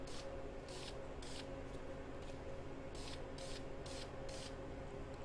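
Short repeated bursts of spray lacquer hiss onto knife handle scales as a high gloss finish is applied, seven or eight close, even sprays separated by brief pauses over a steady low background hum.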